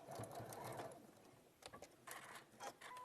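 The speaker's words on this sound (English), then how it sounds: "Needle down, pivot, and sew off the corner." A sewing machine stitches off the corner of fabric in short, quiet whirring runs with brief pauses between them, heard close up in an otherwise still room.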